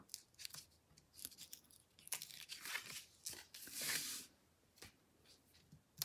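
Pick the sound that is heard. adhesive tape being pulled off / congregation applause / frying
adhesive tape being pulled off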